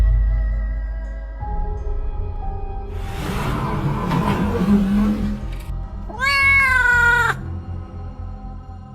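Cats meow near a chair outside a home, with a burst of scuffling noise in the middle and a clear, drawn-out wavering meow near the end, all over a low background hum.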